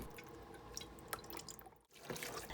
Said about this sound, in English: So now I'm just pouring it on both sides just so it could be throughout the whole tub.